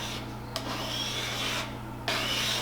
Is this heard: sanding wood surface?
yes